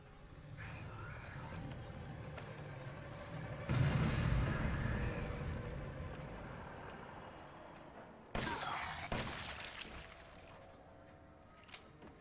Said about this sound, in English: That bomb blew up right underneath him.